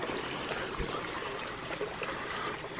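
Mountain spring water runs steadily in a soft, continuous trickle and splash near Cades Cove, close by and uninterrupted.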